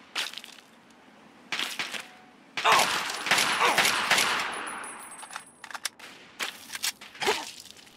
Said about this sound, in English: There, they're shooting us from there.